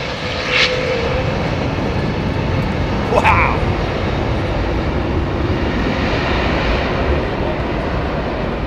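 An airliner with GEnx engines departs Heathrow, its jet roar strong and constant throughout while voices briefly speak over it.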